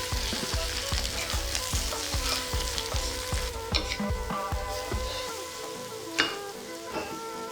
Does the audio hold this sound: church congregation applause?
no